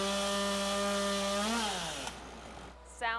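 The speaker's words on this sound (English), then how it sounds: "Sounds of chainsaws filled the air in downtown Traverse City today as crews installed the city's 42-foot tall Christmas tree." Chainsaws run with a loud, sustained buzzing whine as crews cut wood while installing a 42-foot Christmas tree in downtown Traverse City, the engine pitch dipping before cutting off, followed by quieter sounds and a brief high whine.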